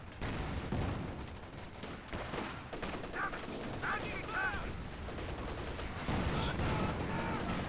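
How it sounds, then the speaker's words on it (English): Artillery fire from a pack howitzer in a strategy video game, a dense burst of booming shots and gunfire crackle over continuous battle noise, with people talking over it. "Nice pack howitzer shot on the stern pioneers."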